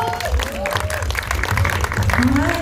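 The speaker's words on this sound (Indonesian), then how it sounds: "tepuk tangan dong buat Bang Jo" Applause rises for an actor introduced on stage at a film cast event, a short stretch of crowd clapping blended with an amplified host's voice and cheers.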